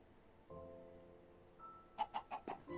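Chicken clucking in the Minecraft modpack Blightfall: a run of four short, evenly spaced clucks near the end, preceded by soft tonal game sounds, fairly quiet with no talk.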